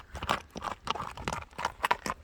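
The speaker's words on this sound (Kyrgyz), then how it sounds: "Тыпылдаган ат экен жаныбар" A black horse's hooves clip-clop in a quick, uneven rhythm of distinct close thuds, several beats per second, with no talk over them.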